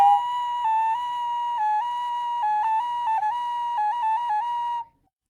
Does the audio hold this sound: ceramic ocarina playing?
yes